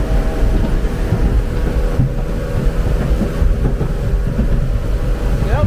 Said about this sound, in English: You can hear the waves hitting that.